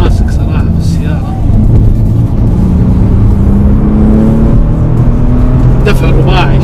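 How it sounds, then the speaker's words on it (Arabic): Bentley GT Speed twelve-cylinder turbocharged engine accelerating hard, a steady rising drone that climbs through the gears close to the listener, with someone speaking over it. "صوت ال 12 سلندر مع التيربو"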